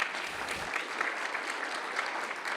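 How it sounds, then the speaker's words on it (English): Sustained applause from a conference audience in a hall, a dense steady wash of many hands clapping at even loudness throughout. "let's give him a round of applause anyway"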